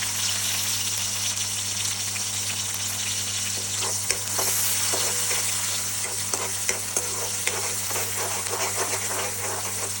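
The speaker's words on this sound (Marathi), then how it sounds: "कांद्याला छान फ्राय करूया." Onion frying in oil with cumin seeds for a crispy bitter gourd stir-fry, a dense, continuous close-up sizzle with scattered crackles and occasional stirring scrapes throughout.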